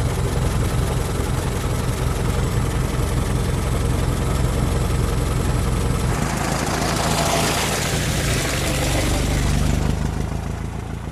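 A Ford Model T engine idles steadily for the whole stretch with a continuous low rumble, switched over to magneto ignition, while a brighter hiss swells midway and then eases off.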